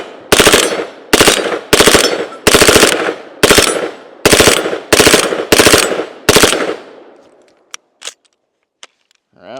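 Nine loud, evenly spaced bursts of automatic fire from a full-size H&K MP5, each a sharp cluster of shots with short gaps between, ending with faint clicks and rattles of handling; no talk.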